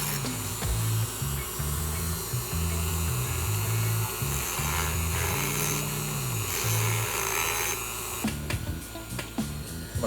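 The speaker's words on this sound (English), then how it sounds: "until I get a real rotary tool, I will continue using my Dremel" A Dremel rotary tool grinds a knife blade, a steady high whine with a wavering low hum that pulses as the bit bears down, running loud and close throughout before easing slightly near the end.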